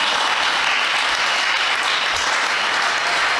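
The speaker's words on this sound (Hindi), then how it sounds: "ताली बजाओ।" A large crowd at a Jain religious discourse breaks into dense, sustained applause that stays loud and even throughout, with no voices over it.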